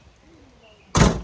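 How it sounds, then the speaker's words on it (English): Car door opening, a sudden loud clack near the end after a quiet stretch, followed by a brief rustling tail, close to the listener. "And then as far as the door not opening, it's opening now."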